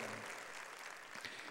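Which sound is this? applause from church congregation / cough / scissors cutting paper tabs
applause from church congregation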